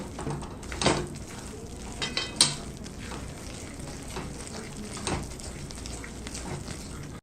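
A bottle gourd vadi mixture is stirred in a pan, with a steady soft sizzle and scraping broken by several clinks of the spoon on the pan.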